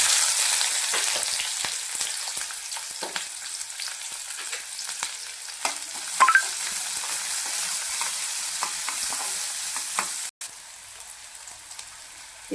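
Small onions fry in hot oil in a pan with fenugreek seeds, a steady close sizzle with occasional soft stirring clicks and pops.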